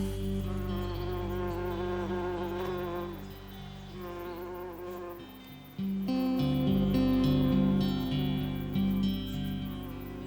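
Honeybees at a beekeeper's hives in Wallonia buzzing loudly and continuously, a dense close drone that swells in volume partway through.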